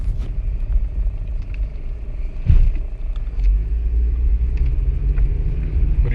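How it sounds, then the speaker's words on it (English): A car drives through the dark at night, its steady low road rumble and engine drone continuous throughout, with a brief louder thump partway through and no talking. "we're just driving in the dark here."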